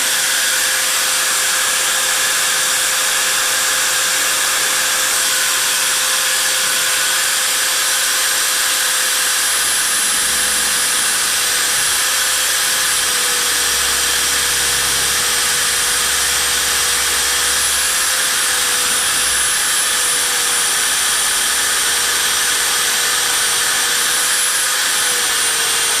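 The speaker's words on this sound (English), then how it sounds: "drill this out." A magnetic-base mag drill boring through metal, a steady loud whine holding level for the whole stretch with a low rumbling undertone that swells partway through, no talk.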